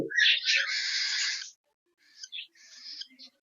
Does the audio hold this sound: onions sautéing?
no